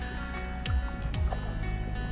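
A small boat moves on the clear Umangot (Dawki) river in Meghalaya, with water lapping and sloshing against the hull, a couple of dull knocks, and a steady low rumble beneath.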